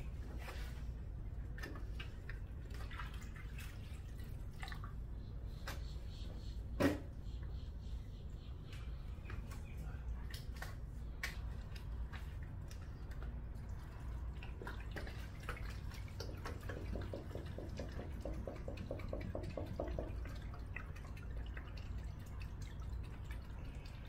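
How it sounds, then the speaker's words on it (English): Water pours into the soft hydration bladder of a Nathan VaporAiress 2.0 7L vest, sounding like faint, steady trickling and dripping with a brief louder trickle partway through. "Pour your water in."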